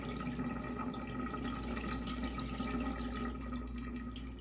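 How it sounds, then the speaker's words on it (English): Water drains steadily from a bathtub after a hair clog is cleared, a continuous gurgling, trickling flow heard close and fairly faint, with no talking. "See how fast it drains."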